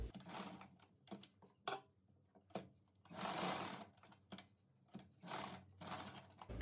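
A sewing machine makes short bursts of reverse double stitching on a salwar, quick mechanical clatters separated by near silence, with one longer run in the middle, close but fairly quiet.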